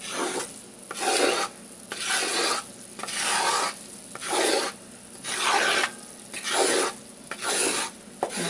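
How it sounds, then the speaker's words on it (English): A roux for duck and oyster gumbo is stirred in a pot, about eight rhythmic rasping strokes scraping the bottom, each separated by a brief pause, close and with no talking. "Keep on stirring."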